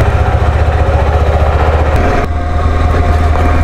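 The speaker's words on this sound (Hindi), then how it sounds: "Let's get the bike started." KTM ADV 390 motorcycle engine running near Manali, a loud, close, steady idle with a low rhythmic thump throughout and a brief dip in the sound partway, no talk.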